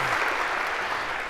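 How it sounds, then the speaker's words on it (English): A lecture hall audience at a computer science class gives a brief, steady burst of applause, dense clapping at even loudness throughout. "maybe a round of applause for having choreographed that so perfectly"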